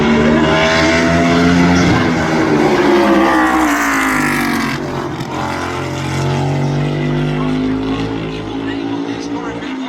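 A Chevrolet NASCAR race car at North Wilkesboro Speedway rolls onto pit road, its engine a loud, steady roar that drops lower partway through as the car slows, with an announcer talking over it.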